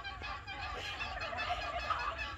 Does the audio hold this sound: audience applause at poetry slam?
no